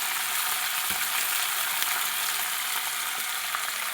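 Flat beans frying and being stirred in a pan give a steady, even sizzle throughout, with a few soft scrapes from the stirring.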